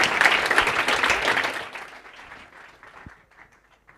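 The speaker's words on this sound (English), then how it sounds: "Can I have a huge round of applause, please, for everyone on the panel?" Loud applause from an audience at a global corporate event, thanking a panel, strongest at the start and gradually fading away to scattered claps by the end.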